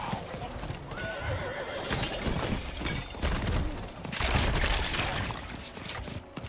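A Diablo 4 horse neighs while its hooves clop steadily, up front in a dense game soundscape with clashing battle effects.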